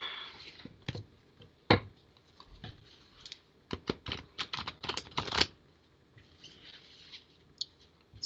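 Crisp bursts of riffling and slapping card sounds come in quick clusters, loud and close, separated by quieter pauses.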